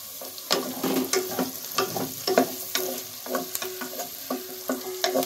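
Beans and potatoes sautéing in a pan for veg brinji rice, a crackling sizzle punctuated by repeated scraping stirs at an irregular pace, close up with no speech.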